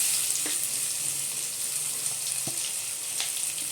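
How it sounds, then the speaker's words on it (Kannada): Ridge gourd and brinjal curry fries in a pan in a North Karnataka-style home kitchen, a steady close sizzle with a few faint taps of a utensil against the pan. "ಇದು ಒಂದು ಸ್ವಲ್ಪ ಫ್ರೈ ಆಗಲ್ರಿ."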